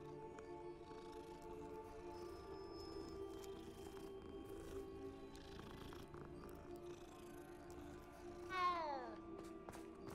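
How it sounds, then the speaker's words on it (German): A cat meows once in the Hogwarts Legacy video game, a short rising-and-falling call near the end, heard over steady game music and ambient background. "Katze!"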